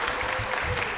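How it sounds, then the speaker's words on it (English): Brief burst of audience clapping for award winners at a board of education meeting, steady and close-sounding for its one-second length. "Let's give all of our winners a round of applause again."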